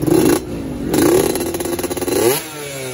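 A Yamaha F1ZR two-stroke motorcycle fitted with an R&R 3v3 racing exhaust revs close by, two loud blips followed by a burst of rapid throttle pulses before dropping back to a low idle.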